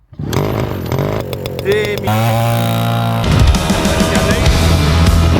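A Romet Ogar motorcycle engine runs loud and close throughout, its steady mechanical drone shifting in pitch as the throttle changes, with some broadband rattle and possible voice mixed in.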